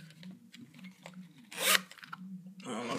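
A short zipper pull rasps closed on a coin pouch nearby amid soft rubbing and handling noises, with a low background hum throughout.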